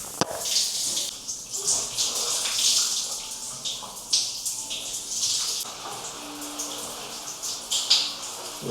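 A shower runs in a hotel business lounge bathroom, water spraying and splashing in a steady hiss with irregular louder spatters and a few brief knocks.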